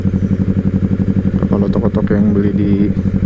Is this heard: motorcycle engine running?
yes